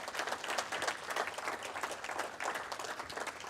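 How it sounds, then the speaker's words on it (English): Applause from an audience at a First Nations carbon summit, honoring the elected council members of First Nation government; steady dense clapping fills the space throughout without pause. "So round of applause for them."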